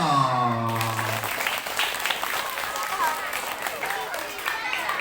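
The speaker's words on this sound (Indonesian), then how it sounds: "Tepuk tangan dong" Schoolchildren clapping their hands together at an elementary school storytelling session, a dense, steady patter of many small hands close by, joined after a brief opening voice and continuing throughout.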